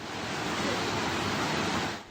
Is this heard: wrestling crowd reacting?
no